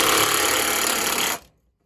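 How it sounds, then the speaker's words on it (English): A power tool, most likely an impact wrench, tightens a body bolt behind a truck's running board on a 2500HD, giving a loud, dense buzzing rattle for over a second before cutting off abruptly. "we're going to tighten up the last body bolt"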